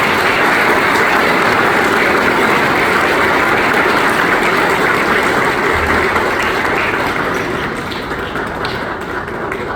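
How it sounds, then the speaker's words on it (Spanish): A large audience applauds artists at a cultural event in the Palacio Barolo, a loud, dense and continuous roar of clapping that fades slightly toward the end. "a estos artistas que han venido de tan lejos, pido un fuerte aplauso"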